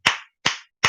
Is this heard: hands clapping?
yes